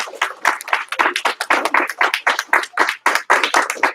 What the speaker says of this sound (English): All right, so give them a huge round of applause.